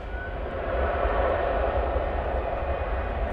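A white-tailed Boeing 737-800 at DFW Airport gives off a steady, moderately loud jet engine drone that holds even for a few seconds, with no talk.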